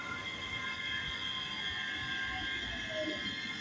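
A ScotRail Class 385 three-carriage electric train pulls into Kingsknowe station with a steady rolling rumble, a high whine and faint wheel squeal, close and continuous throughout.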